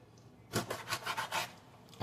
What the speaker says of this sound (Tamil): நாக்கு மீன் கட் பண்ண போகிறேன்